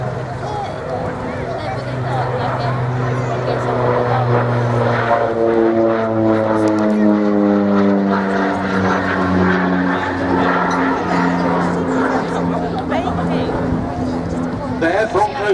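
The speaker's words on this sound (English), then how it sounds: "the Douglas AC-47 gunship variant of the C-47 we see taxiing past us now" A Douglas AC-47 gunship, the armed variant of the C-47, taxis past at the Biggin Hill Festival of Flight air show, its piston propeller engines droning loud and steady with a pitch that slowly rises and falls as it passes.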